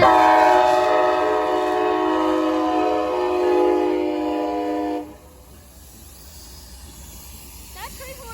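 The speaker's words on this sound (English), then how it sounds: "That train horn sounds weird." An Amtrak passenger train sounds a long, loud, slightly odd-toned horn for about five seconds, then it cuts off, leaving quieter rumble and rail hiss.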